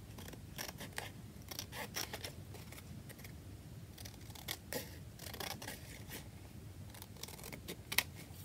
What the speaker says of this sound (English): I'm going to literally glue it down and cut around it just to make it stable